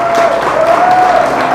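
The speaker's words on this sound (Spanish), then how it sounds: "con el más fuerte y el mayor de los aplausos" A church congregation claps together at a farewell, a loud dense burst of applause filling the whole moment with no clear speech.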